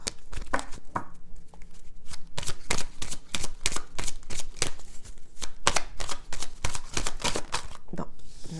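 Tarot cards being reshuffled by hand in a quick series of crisp riffling snaps and slaps, close and steady for several seconds, with a faint murmur of speech at the start.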